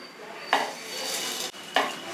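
Cumin, pepper and coriander being coarsely crushed for kashaya, two sharp knocking impacts about a second apart over a faint background hiss, close and moderately loud, no talking.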